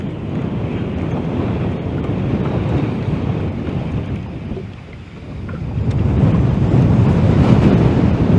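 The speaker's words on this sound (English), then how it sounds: "that's some wind right there." Strong wind roars across the open water around a fishing boat, loud constant buffeting with a brief lull midway before gusting back up, no one speaking.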